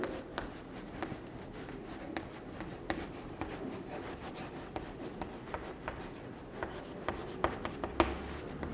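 Pen writing out a geometry definition by hand on paper, steady soft scratching strokes with small taps, close and quiet, no talking.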